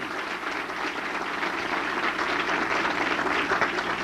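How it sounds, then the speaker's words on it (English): Large audience giving a sustained round of applause for a guest at a motivational speaking event, a dense steady roar of many hands clapping at even loudness throughout, with no voices over it. "Let's give a round of applause to Joe Knuckles"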